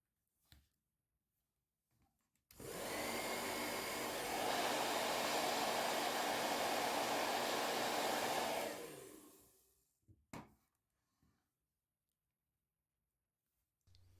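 A heat gun heats the rear glass of a Redmi Note 8 phone during a glass replacement, producing a close, steady blowing roar that lasts about six seconds, then winds down into quiet with a few faint clicks.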